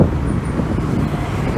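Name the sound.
city bus (the 63) passing on the street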